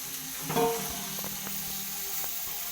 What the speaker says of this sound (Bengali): পাঁচ মিনিট ধরে আমি মাংসটা ভালোভাবে নেড়ে ভাজা করব